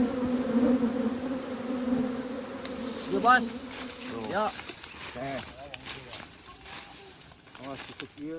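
Wild bees buzz with a steady drone at first, then fade as a voice talks over scattered outdoor sounds on a forest path.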